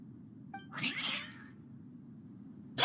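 Cats meowing in the video game Genshin Impact: a single drawn-out meow rises briefly over a quiet ambient background, with another sound starting abruptly at the end.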